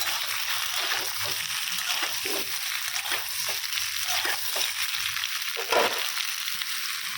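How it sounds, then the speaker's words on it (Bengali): Potatoes frying in hot ghee for a simple vegetarian potato curry with green chili: a dense, loud, continuous sizzle and crackle close by, with a brief louder burst near the end. "ঘিটা গরম হয়ে গেছে, আলুটা ছেড়ে দিলাম"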